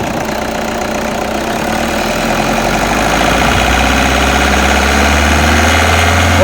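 A 2014 Toyota Innova engine runs loud and close, a steady rumble that swells slightly as the revs rise toward the end, with no voices.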